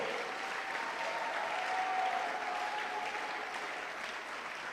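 A church congregation applauds during a sermon, a steady, dense wash of clapping that holds at an even level throughout with no voices standing out.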